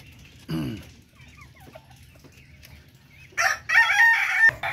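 A Darag breeder rooster crows twice, a short nearby call early on and a louder, longer crow near the end, over quiet farmyard background with faint clucking.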